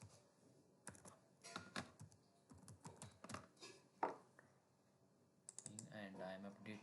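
A site name is typed on a computer keyboard in quick, irregular bursts of soft key clicks with short pauses between words, faint and close.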